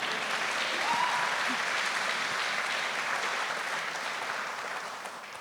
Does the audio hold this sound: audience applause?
yes